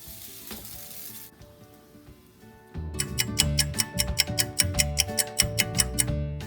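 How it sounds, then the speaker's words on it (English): Egg-dipped French toast lands on a buttered griddle: after a quiet moment, loud close sizzling erupts with rapid, rhythmic crackles and pops that keep going, and no voices are heard. "we're going to take our toast and dip it in the egg mixture, like so, and onto the griddle, just like that."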